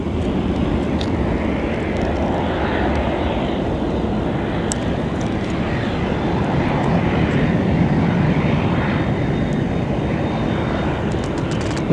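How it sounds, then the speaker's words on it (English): A propeller airplane comes in to land at Sky Harbor airport, its droning engine roar steady and loud throughout, close by and unbroken. "Oh, that's a propeller plane."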